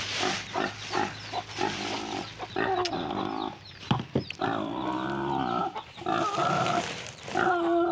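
Farm pigs, with a lactating sow among them, grunt and squeal in rapid irregular bursts near the pen, mixed with clucking fowl and other livestock calls.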